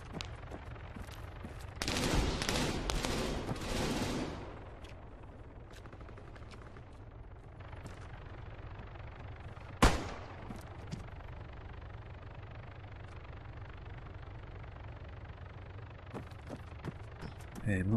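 Underbarrel .50 cal fire from a Type 115 rifle in the video game Arma 3, a loud burst of heavy rapid shots followed by quieter ambient noise and a single sharp crack later.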